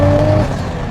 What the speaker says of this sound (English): the turbo kicks in quite low, because it's quite a small turbo from factory.